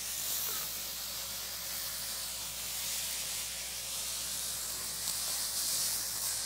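Meat stir-fries for japchae after a spoonful of plum extract goes in, giving a steady, dense sizzling hiss that runs evenly throughout with no talk.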